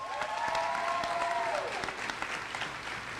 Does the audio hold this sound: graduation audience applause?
yes